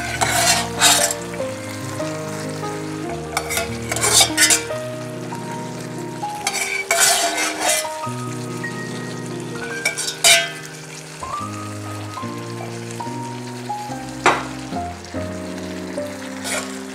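Carrot and potato sizzle steadily in a hot pan while a utensil stirs and scrapes, with occasional clinks of metal against the pan.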